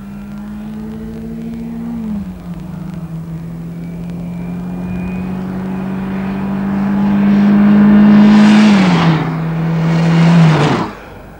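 A 1982 car in an acceleration test, its engine droning steadily then rising in pitch through gear changes, building louder toward a loud surge near the end before cutting off.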